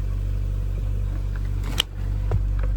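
A 2010 Chevy Cruze engine starts by remote start, with a sharp crank at about two seconds settling into a steady low idle hum close by. No one talks.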